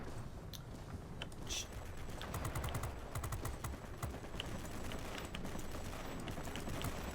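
Rapid bursts of aircraft cannon fire from a World of Warplanes F6U dogfight, crackling in quick volleys over a dense, steady engine roar throughout.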